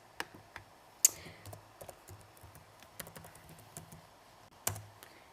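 Someone types a password on a computer keyboard during a Brookhaven game session: sparse, separate key clicks and a few sharper presses, close and clear in a quiet room.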